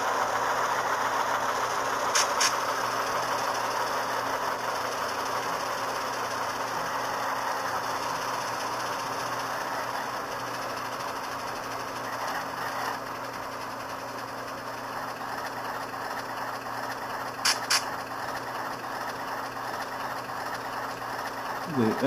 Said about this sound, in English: They actually idle rougher than this.